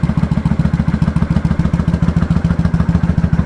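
Kawasaki VN900 custom motorcycle idling up close, a loud, steady low thumping engine beat with an even rhythm and no talk.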